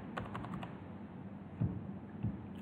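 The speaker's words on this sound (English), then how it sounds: "Let me just type it here." Quiet typing on a computer keyboard, a short run of soft key taps at the start, then a couple of heavier isolated keystrokes over a faint background hiss.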